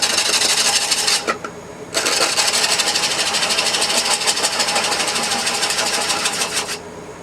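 A wood lathe slowly turns a crotch bowl while a tool scrapes and rasps against the wood in a continuous close grinding hiss, with two brief pauses.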